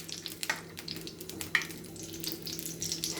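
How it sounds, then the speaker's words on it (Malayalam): Lemons sauté in hot oil for a raw date pickle, a soft, steady sizzle with faint stirring scrapes and occasional light clicks, fairly quiet and without speech. "എണ്ണ ചൂടാകുമ്പോൾ ഈ നാരങ്ങ അതിലേക്ക് ഇട്ട് കൊടുക്കുക. ഇത് ജസ്റ്റ് ഒന്ന് വാടുന്നത് വരെ ഇതൊന്ന് വഴറ്റിയെടുക്കാം"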